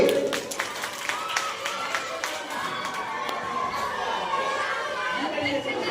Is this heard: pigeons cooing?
no